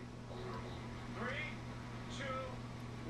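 A voice imitates a cat's meow, giving a couple of faint, drawn-out whiny cries over a steady low background hum.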